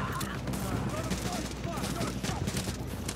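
Rapid sniper and gunfire shots in a tactical shooter video game, sounding as dense continuous firing with sharp bursts throughout, loud and close in a busy battle mix.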